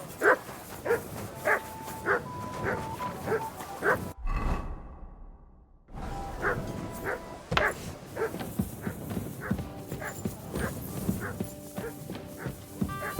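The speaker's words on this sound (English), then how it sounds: "Let the dog bark, man." A dog in the video game Kingdom Come: Deliverance II barks in a repeated rhythmic series. Hoof clip-clops and game ambience run underneath, and the barking pauses briefly midway before it resumes.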